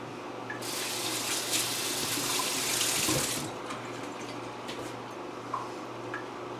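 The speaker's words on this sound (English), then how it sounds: "I'm going to just rinse my hands off." A kitchen tap runs as hands are rinsed during Instant Pot cooking, a close, steady gush of water lasting about three seconds before shutting off, followed by faint background noise.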